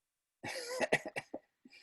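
One person coughs close up in a quick run of five or six harsh, throaty bursts, followed by a softer little cough after a short pause.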